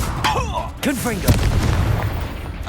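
A Confringo fire blast spell explodes in Hogwarts Legacy, a loud sudden boom with crackling bursts, amid swooping magical whooshes and a voice.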